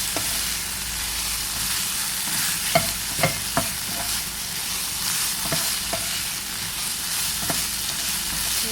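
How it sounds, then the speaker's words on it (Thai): Basil and aromatics stir-fried dry in a pan for pork stir-fry, with a steady close sizzle broken by repeated scraping and tapping of a spatula against the pan. "จะผัดแบบแห้งๆนะคะ"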